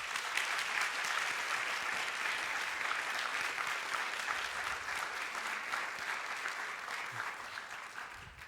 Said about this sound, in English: Would you please join me in giving them a round of applause?